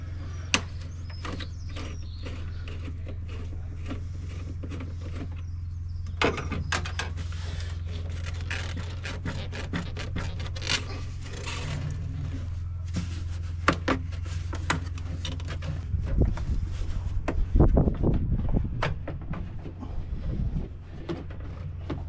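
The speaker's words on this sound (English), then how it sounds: "I'm going to remove this Jubilee clip and then detach this large pipe and this plastic pipe from the airbox." Plastic pipe and large hose being pulled off the airbox of a Mercedes W209 CLK 220CDI, a cluster of sharp clicks, scrapes and thumps near the mic over a steady low hum, growing busier toward the end.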